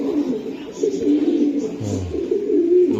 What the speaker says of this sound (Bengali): এটা 3 নাম্বার পেদার কবুতর